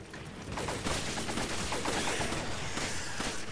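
Rapid, sustained gunfire in Resident Evil 5 as shots are aimed at a monster's tail, dense overlapping bursts filling the whole stretch at a steady, loud level.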